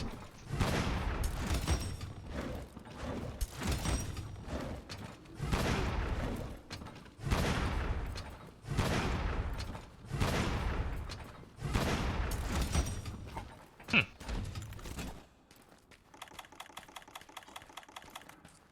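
Rapid weapon fire in Monster Hunter World: Iceborne comes in about eight loud, closely spaced rattling bursts, each lasting roughly a second. A quieter stretch of fast, even mechanical clicking follows at the end.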